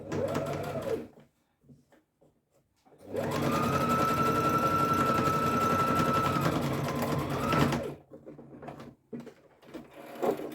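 A sewing machine stitches a pleat in a single sustained run of several seconds, close and steady, framed by quieter handling noises and brief murmurs before and after.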